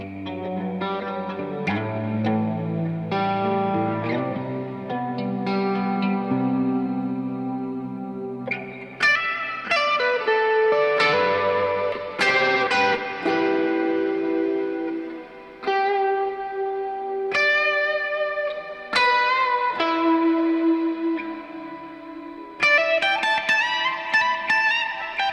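Chase Bliss Lost and Found pedal's Ensemble Expander with added reverb on guitar, a sequence of lush chorused chords and single notes with long, washy tails blending into each other, played alone without speech.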